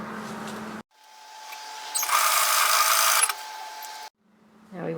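A home sewing machine stitching fabric for an apron with external frill and pockets, a steady motor whir of about a second between quiet gaps, close and moderately loud, preceded and followed by brief muffled handling sounds.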